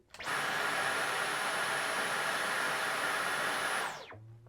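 A Dyson V11 cordless vacuum cleaner runs on medium power, a steady loud whirring motor with a high whine held evenly for nearly four seconds before spinning down quickly at the end, with no talk.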